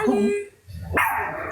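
A dog barks in a few short bursts near the microphone, with someone talking over and around it in a home livestream setting.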